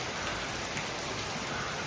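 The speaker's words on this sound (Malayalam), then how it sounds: "രാവിലെ പെരും മഴയാണ് ഒരു രക്ഷയില്ല ഭയങ്കര മഴ" Heavy morning downpour drums steadily and loudly, a continuous close wash of rain on surfaces with no break and no voices over it.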